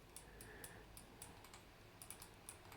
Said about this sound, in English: Just typing in the wrong ticker.